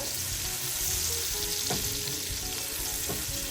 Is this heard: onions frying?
yes